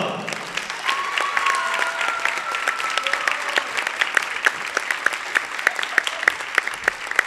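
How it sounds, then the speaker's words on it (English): Spectators in a school gym applaud the senior players at a girls' basketball senior night, a sustained mix of clapping with sharper individual claps standing out, joined by a few faint whoops and voices. "Let's give all of them a big round of applause."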